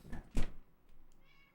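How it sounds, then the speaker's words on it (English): A single short meow, fairly close and clear, preceded by a faint soft sound and followed by quiet room noise. "Do you hear any meows?"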